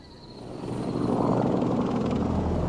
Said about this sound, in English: Two helicopters are traveling towards Abbottabad, Pakistan.